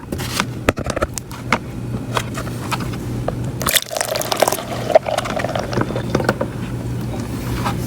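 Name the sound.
water pouring into a container to fill a quart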